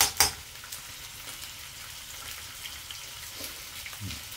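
Octopus sautéing in a pan gives a soft, continuous sizzle, opened by a sharp utensil clink and followed later by light clatter.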